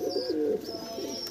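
Close, fairly loud cooing from a flock of Dhille pigeons, rising and falling in soft repeated bursts with a thin high chirp over the top, no talking.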